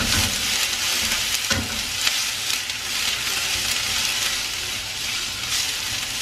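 Onions sizzle and fry in a pot for spaghetti sauce while a spoon stirs through them. The hiss is steady and close, with occasional scraping clinks and no talking.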